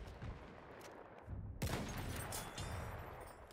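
Distant bursts of gunfire aimed at a tank in a Battlefield 1 match crackle faintly at first, then a sharper volley hits around the middle and rattles on at moderate loudness.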